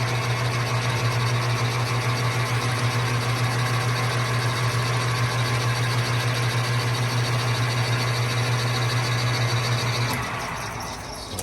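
A lathe drills and chamfers a brass part with a steady, loud mechanical hum and a constant whirring drone. The motor winds down near the end.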